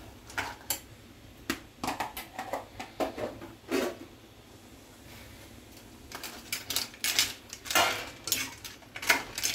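Onion-coconut masala being stirred into clams in a pot, with intermittent scraping, clinking and knocks of a spoon against metal and shells, close and moderately quiet with brief pauses.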